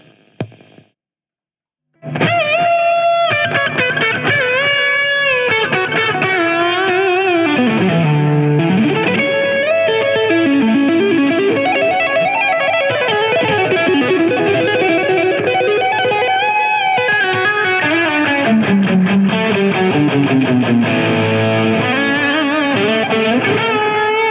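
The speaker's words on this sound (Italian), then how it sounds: "Andiamo con la distorsione e il booster assieme." Electric guitar played through a Gokko MX300 analog pedalboard with distortion and booster engaged together, a loud, sustained, saturated lead line with bends and held notes running continuously after a brief quiet start.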